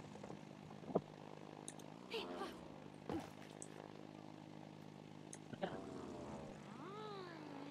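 An in-game airplane engine from the video game It Takes Two drones quietly in the background, with game sounds and brief voices over it.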